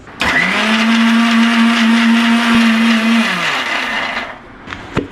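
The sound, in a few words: mixer grinder grinding spice paste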